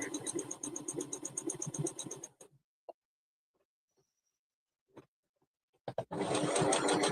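A close sewing machine stitches a teddy in two runs, a steady whirring burst at the start and another at the end, with a near-silent gap between holding a few faint clicks.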